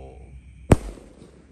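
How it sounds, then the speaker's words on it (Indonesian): A Bima Sakti 4 firecracker goes off on a Ramadan night, one sharp, loud close bang with a brief rumbling tail, standing out against a quiet background. "Ini yang ketiga Bima Sakti 4 penutupnya kita nyalakan."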